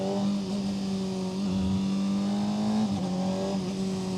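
A Honda CBR600RR supersport motorcycle engine, heard close up as a steady, loud drone with slight pitch dips, giving a brief flutter as the quick shifter downshifts, with no talk over it.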